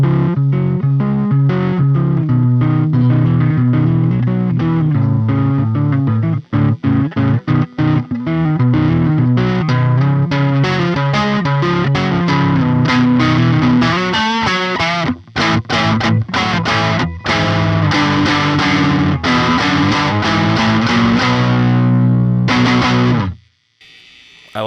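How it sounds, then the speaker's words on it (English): A 1980s Burny Super Grade electric guitar played on the neck pickup through hard overdrive, loud sustained distorted chords and riffs ringing continuously before cutting off near the end. "A much harder overdrive sound. On the neck pickup, we can get a..."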